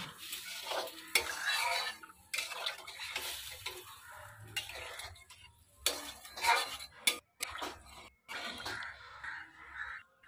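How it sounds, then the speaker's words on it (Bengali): A spatula stirs spiced fish curry masala after water goes into the pan, giving repeated scraping strokes with soft sizzling between them and no talk. "তো জল দিয়ে একটু খুন্তির সাহায্যে আমি মশলাটা আর কি খুব ভালো করে মিশিয়ে নিলাম।"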